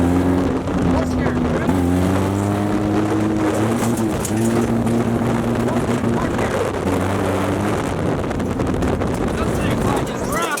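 A Honda-engine-swapped off-road buggy drives hard: a loud, sustained engine drone with wavering harmonics, rising and falling with throttle, buffeted by wind noise.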